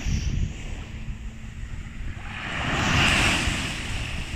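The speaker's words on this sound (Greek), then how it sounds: "και θέα τη θάλασσα εδώ μπροστά στο κύμα." Sea waves break on the shore at Santorini, a steady washing roar that swells to a louder surge of surf midway and then eases, mixed with wind buffeting the microphone, with no speech.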